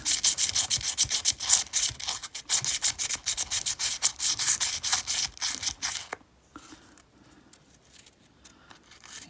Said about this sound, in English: do a little sandpaper action down in the blade wells here